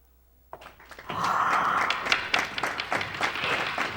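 Audience applause welcoming cellos onto a philharmonic concert stage, starting from near silence with a few claps, then swelling into steady, full clapping from a crowd that continues to the end.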